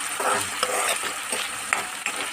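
Onions fry with ginger garlic paste in a pan for a mushroom curry, giving a steady close sizzle broken by a few quick stirring scrapes, with no voices.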